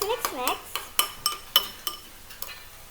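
A utensil mixes a mayonnaise-based sauce for mojos potatoes in a bowl, producing a series of sharp clinks and knocks in an uneven rhythm, close up. Some brief sounds near the start may be voice.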